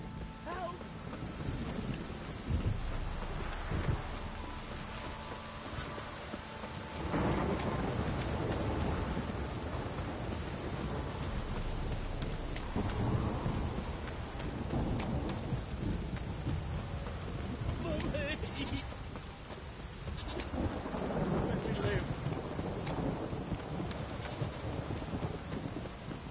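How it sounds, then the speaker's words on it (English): Video game downpour: a steady hiss of heavy rain on surfaces runs throughout, with deep rolls of thunder swelling and fading several times across nearly half a minute. "This downpour's a bastard"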